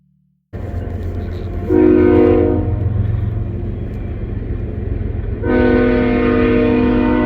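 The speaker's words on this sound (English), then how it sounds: "How often does the train go by?" A train passes close by and sounds its horn in two long, loud blasts over the steady heavy rumble of the rail cars.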